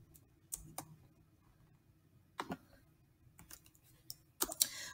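Scattered key taps on a calculator or keyboard while math problems are entered, a few sparse clicks and then a quicker cluster near the end, close but quiet.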